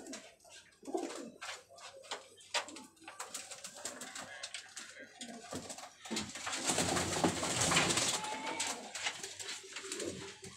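Golden teddy pigeons coo in soft repeated calls close by, with scattered rustling and handling noise and a denser burst of activity midway.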